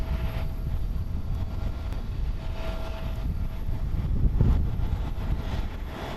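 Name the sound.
Japan Airlines Airbus A350-900 arriving on runway 22 at Haneda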